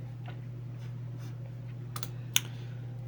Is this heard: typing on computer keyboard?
yes